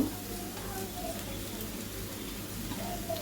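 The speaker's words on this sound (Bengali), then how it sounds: "সবজিগুলো হালকা আছে ভাজা হতে থাকুক" Cabbage, potato, tomato, cauliflower and capsicum fry with minced meat in a pan, making a soft, steady sizzle under a low background hum.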